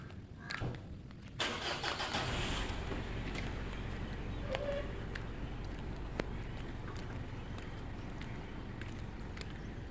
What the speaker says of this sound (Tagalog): Yan ang aming truck.